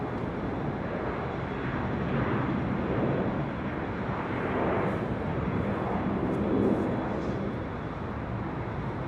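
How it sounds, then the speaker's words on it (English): A Delta Airlines Airbus A320 jet arriving at LAX on the north side after a flight from Austin, Texas: a steady, broad roar of engine noise holding for about nine seconds, swelling slightly midway with no voices. "Delta Airlines Flight 1337 coming in from Austin, Texas. A320"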